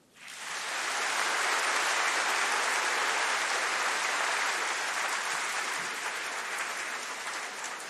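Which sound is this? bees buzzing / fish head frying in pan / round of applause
round of applause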